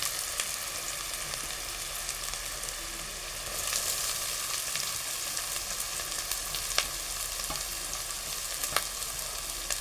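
Onion and capsicum fry in a pan for pav bhaji, giving a steady close sizzle with occasional sharp crackles and stirring scrapes, and no talking.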